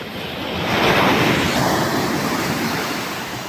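A sea wave at a creek mouth on the Konkan coast swells into a loud, rushing wash of surf and slowly recedes, with wind buffeting throughout.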